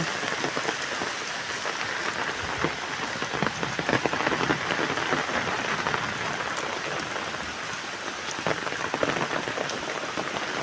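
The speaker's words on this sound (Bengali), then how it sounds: "একটু আস্তে আস্তে বৃষ্টি হচ্ছে" Light rain patters steadily on a surface, a continuous hiss with scattered close drops, even and unbroken, no voices.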